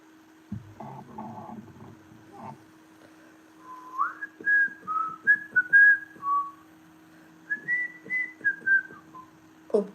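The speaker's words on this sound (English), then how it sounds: "I have to stop whistling because it's too loud for people that it just comes out loud" A person whistles a wandering tune in short melodic phrases, close and fairly loud over a steady low electrical hum, with soft rustling and handling noises early on.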